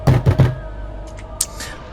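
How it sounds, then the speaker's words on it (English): Three quick, close knocks, made with the side of a hand against a door, land in a dull thudding rhythm, then give way to a few faint, scattered taps. "I do the shady kind of knock of like side of the hand"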